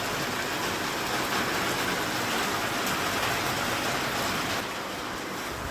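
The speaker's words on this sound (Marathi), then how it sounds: "पुन्हा एकदा पावसाला छान सुरुवातसुद्धा झालेली आहे" Heavy rain pours down steadily in Wardha, a dense, even hiss that holds at one level throughout and eases only slightly near the end, with no voices.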